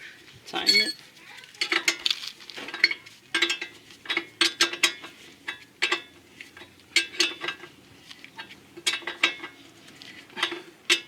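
Nut being tightened with a ratchet while installing a front camber kit on a Honda Civic, a close series of sharp metallic clicks in quick irregular bursts, with someone speaking over them.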